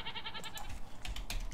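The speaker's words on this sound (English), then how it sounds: "I may have just accidentally tamed a goat" A goat in a Minecraft mod game bleating in short nasal calls, mixed with quick computer keyboard clicks and taps, fairly quiet and close.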